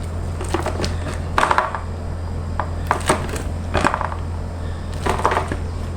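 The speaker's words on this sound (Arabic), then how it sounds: "الوقت ده محتاج سرعه معاكي قبل ما تنشف منك، عشان كده انا هنقطعها بالمخرطه" An oiled cutter slices through a setting tray of sweet for the Prophet's Birthday, making a series of crisp cracking cuts in uneven bursts over a steady low hum, close and fairly loud.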